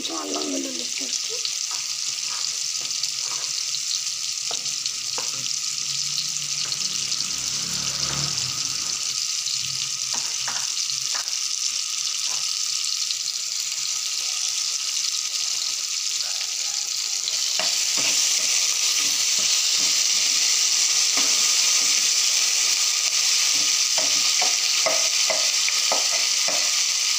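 Ginger garlic paste frying in a pan for goat leg curry, a steady close sizzle with scattered stirring scrapes and clinks, growing slightly louder near the end.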